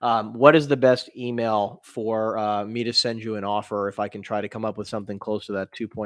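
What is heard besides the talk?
No distinct noise like a dog, phone or traffic.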